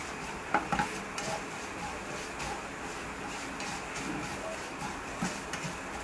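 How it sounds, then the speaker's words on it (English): Masala being tossed in a cooking pan: a steady hiss with light scraping and clinking of a utensil against the pan, plus a few sharper knocks early on. "it is just giving a toss to the masala so that you get the aroma out of it."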